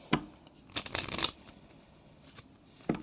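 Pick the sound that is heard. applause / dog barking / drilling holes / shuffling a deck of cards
shuffling a deck of cards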